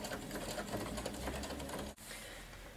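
A sewing machine topstitches a skirt, advancing slowly with a steady, close mechanical whir that cuts off abruptly near the end before resuming briefly. No one speaks.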